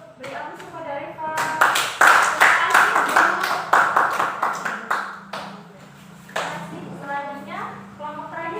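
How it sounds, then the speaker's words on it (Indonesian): Students in a high school biology class clap for a classmate, a burst of lively applause of many hands lasting a few seconds before fading as voices resume. "Beri aplaus kepada Reva."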